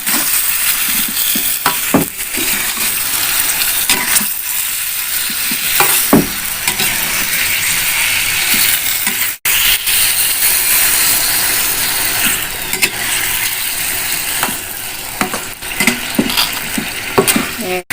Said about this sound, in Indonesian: Kita masukkan tahunya guys. Kita aduk.